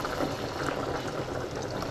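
Water poured into a pan of reduced wine to start a stock for pan-fried duck breast, a steady bubbling, trickling rush that runs close and continuous with no talk over it.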